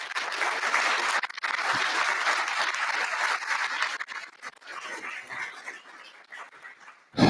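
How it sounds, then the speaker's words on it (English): Audience applauding the entrepreneurs at a pre-accelerator pitch day, steady dense clapping that carries on for several seconds, then thins and tapers toward the end. "Let's give all of the entrepreneurs a really big round of applause."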